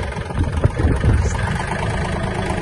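A Kubota L1-185 mini tractor's diesel engine runs in low reverse gear, a close, steady mid-to-low rumble with slight surges in load.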